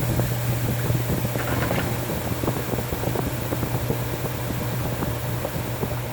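A Whirlpool Cabrio top-load washing machine shakes through its spin cycle with a subtle vibration: a steady low hum and constant mechanical drone. Faint irregular rattling ticks sit on top of it, close and continuous, with no talking.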